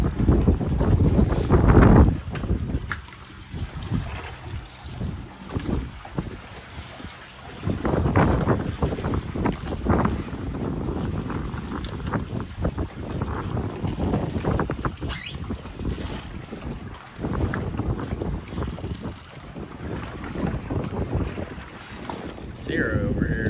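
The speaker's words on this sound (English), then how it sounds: "pretty stiff" A stiff east wind buffets a boat at Put-in Bay, roaring and gusting steadily against the microphone with water noise beneath, loud throughout.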